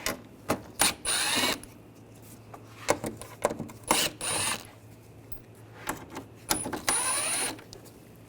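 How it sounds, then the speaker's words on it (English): A hand ratchet fitted with a T25 socket works out the upper screws on the front bumper cover of a 2009-2017 Volkswagen Tiguan, giving repeated bursts of quick, close mechanical clicking separated by short pauses. "Up top, we're going to take these screws out, use a T25 socket."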